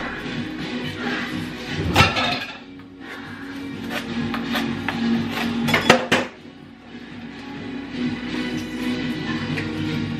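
Food is mixed in a bowl with a utensil, giving close, irregular clinks and scrapes against the bowl, with a couple of sharper knocks and quieter stretches between, and no speech.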